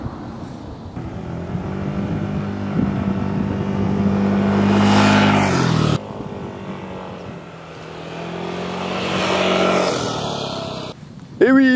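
Yamaha Tricity 125 three-wheel scooter with a 125 cc engine, running with a steady hum that rises and swells twice, briefly cut off, with a short sharper burst at the end.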